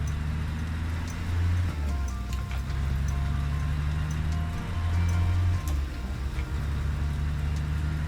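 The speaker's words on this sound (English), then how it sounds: "and the rain is on as well." Steady rain patters in American Truck Simulator over the low drone of a Mack R truck hauling a Fruehauf fuel tanker, with a constant hum and faint drops throughout.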